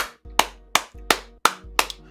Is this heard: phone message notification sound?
no